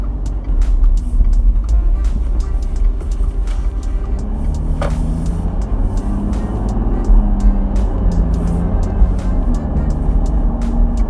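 A VW Touareg Monochrome with a V6 diesel cruises on the road, giving a steady low engine and road rumble heard from the cabin, constant and fairly loud with faint clicks over it.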